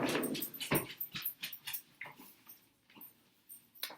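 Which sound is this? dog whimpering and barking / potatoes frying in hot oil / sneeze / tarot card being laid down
dog whimpering and barking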